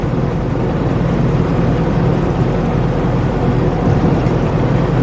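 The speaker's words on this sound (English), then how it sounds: "I don't have the absolute straight sounding exhaust on mine, but you definitely hear the sound behind it." A 2018 or 2019 semi truck's exhaust rumbles in a steady, loud, low drone with no breaks, heard from on board while driving; no talking.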